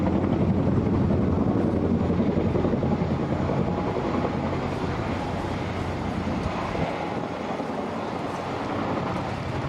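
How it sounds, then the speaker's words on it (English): An aerobatic aircraft climbing and diving at the Dartmouth airshow, heard from a boat, gives a steady, distant engine drone that swells slightly, mixed with gusting wind noise. "See the aircraft is accelerating vertically"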